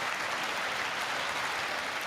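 Brief, continuous applause rises from the chamber at a State of the Union address, a soft, uniform patter of many hands heard from some distance.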